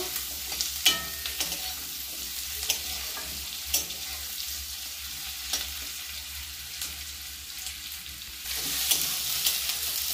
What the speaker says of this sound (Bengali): আলুটাও এর সাথে ভালোভাবে একটু নেড়ে নেব।